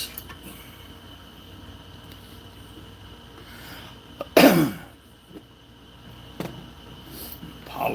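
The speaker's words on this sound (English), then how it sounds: "That's why I keep hacking and coughing." One sudden, harsh hacking cough from someone bothered by pollen outdoors, followed by a couple of softer throat sounds against quiet background noise.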